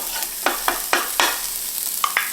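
Chopped, minced onions sizzle in a hot pan as they are stirred and tossed, a steady frying hiss broken by several sharp scraping stir strokes, close and clear with no talking.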